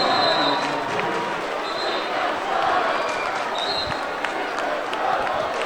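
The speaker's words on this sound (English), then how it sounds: "So the Morton crowd is buzzing after that." Home crowd at a Morton high school sectional basketball game buzzing with a sustained murmur and scattered cheers in a gym, under a commentator's talk.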